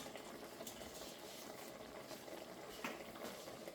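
Fermented chilli sauce simmers in a pot with a soft, continuous bubbling and occasional small pops, quiet and close.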